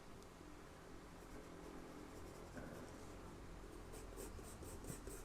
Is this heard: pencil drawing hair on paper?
yes